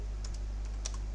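A few quick, light keystrokes on a computer keyboard, close and soft over a steady low electrical hum.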